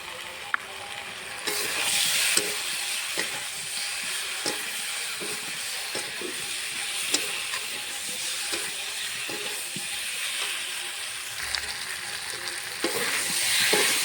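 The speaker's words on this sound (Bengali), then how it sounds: "দেখো মশলার সঙ্গে আমার আলুটা ভালো করে কষিয়ে নিয়েছি, তেল ছেড়ে দিয়েছে।" Potatoes sautéing with spices and chili powder in oil for a fish curry with cauliflower, a continuous close sizzle and hiss broken by frequent scraping stirs, steady throughout with no talk.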